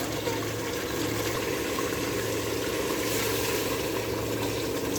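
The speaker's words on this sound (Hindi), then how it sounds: "इसमें हमने तकरीबन 3 गिलास पानी ऐड किया।" About three glasses of water pour into a cooking pot of aloo chicken, a steady loud gushing rush that runs unbroken throughout.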